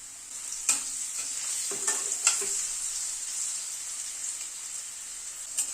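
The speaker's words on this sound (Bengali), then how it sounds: "সেই জন্য আলুটাকে ভেজে আগে তুলে নিচ্ছি।" Small-cut potato pieces frying in hot oil, a steady bright sizzle throughout with a few louder pops and stirring clicks, close and continuous.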